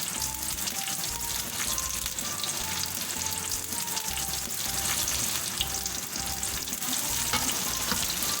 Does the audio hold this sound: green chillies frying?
yes